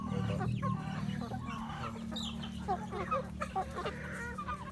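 Farm chickens and ducks clucking and calling in an outdoor yard, a steady run of short, close chirps and clucks over a low background hum.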